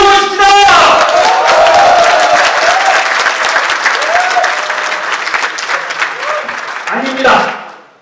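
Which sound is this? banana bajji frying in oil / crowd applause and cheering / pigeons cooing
crowd applause and cheering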